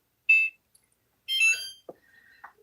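A kitchen timer gives two short electronic beeps about a second apart, loud and clear against silence, with a few faint knocks after.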